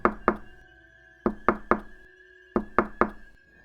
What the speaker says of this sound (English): knocking on the front glass doors.